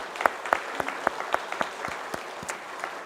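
Light, scattered clapping from a small church congregation welcoming a trumpet player for an offering performance, a few sharp claps spaced irregularly and fading, heard faintly in a quiet room.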